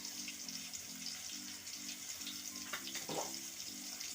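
Fish frying in a pan, a constant hiss of sizzling oil with a repeating low mechanical hum in the background and a brief clatter near the middle.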